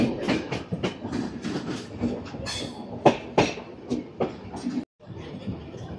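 An express train rolls into Bhubaneswar railway station, its wheels knocking in a steady clickety-clack with a few louder jolts, heard from inside a coach and cutting out briefly near the end.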